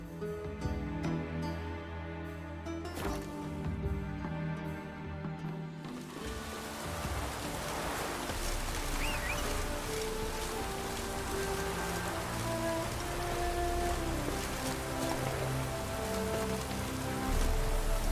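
Steady rain pours down in The Witcher 3: Wild Hunt, a dense continuous patter of drops striking surfaces that holds at an even level throughout, with a low musical drone beneath it and no talking.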